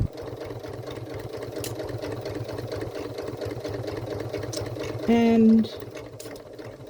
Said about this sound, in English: now we can go ahead and sew